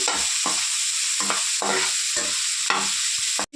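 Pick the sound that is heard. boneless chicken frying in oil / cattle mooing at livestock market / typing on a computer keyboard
boneless chicken frying in oil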